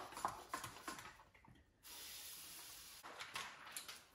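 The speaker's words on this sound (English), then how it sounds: "I'll spray it once more." Several short hissing sprays from a spray bottle onto a Lexus LX 470 car window before tinting, with quiet handling noises between them and a longer steady hiss in the middle.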